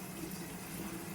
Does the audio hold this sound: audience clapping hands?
no